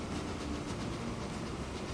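A freight train in Transport Fever 2 rolls steadily past, boxcars giving a continuous rumbling rattle with faint rhythmic clicking of wheels, close and even throughout.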